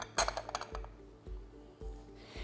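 A glass condiment jar being filled with salt gives a quick cluster of bright clinks and taps, followed by a few duller knocks spaced about half a second apart, close and fairly quiet.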